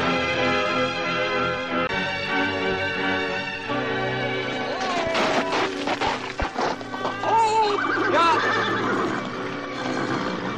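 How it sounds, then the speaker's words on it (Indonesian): A horse spurred fast through brush neighs and whinnies repeatedly at close range over a dramatic backdrop, with hoof clatter and thrashing noises mixed in across the stretch. "Memacu kuda dengan cepat melintasi pada belukar itu"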